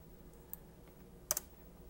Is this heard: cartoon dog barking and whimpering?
no